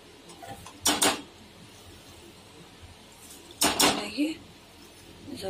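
A Parle biscuit dessert is stirred in a pot, with two short metallic clattering scrapes of a spoon against the pot separated by a quiet stretch.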